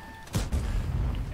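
A tank's main gun in World of Tanks fires one heavy, booming shot after a brief tone. A deep rumbling tail carries on to the end with no talk.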